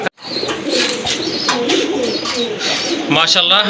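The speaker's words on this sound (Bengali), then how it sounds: "আকাশিটা হচ্ছে রাজগোল্লা কবুতর আর কালোটা কিন্তু আপনার গড়া কবুতর" Several pigeons, including a pale blue Rajgolla pigeon and a black one, coo repeatedly in a loft, the soft rolling coos layered under someone talking close by.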